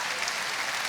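Brief burst of audience applause at a Liège comedy festival, a steady wash of clapping filling the short moment with no voices on top.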